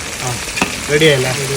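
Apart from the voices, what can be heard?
chicken frying in oil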